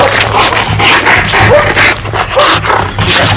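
A dog being trained whimpers and whines while struggling and pulling, high nasal cries breaking through scuffling, panting and rustling, loud and close, with no one speaking over it.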